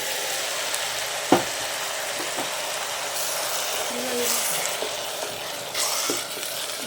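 Ground masala paste for sambar sizzling steadily in a hot pan, a continuous close frying hiss with occasional clinks and scrapes of stirring, speech breaking in at moments.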